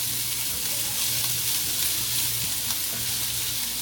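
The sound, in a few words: onions and garlic frying in oil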